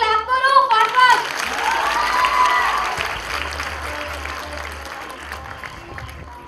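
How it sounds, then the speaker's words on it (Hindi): Audience clapping at a program launch event as guests are called forward, a sustained wash of applause with some cheering, loud at first and slowly tapering, with voices and a tonal chime mixed in at the start. "गाइस चलो क्लैप करो फटाफट।"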